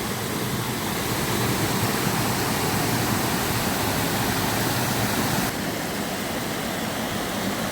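The Saut de la Forge waterfall in the Hérisson cascades, Jura, makes a loud, steady broadband rush of falling water that stays constant throughout, with no voices.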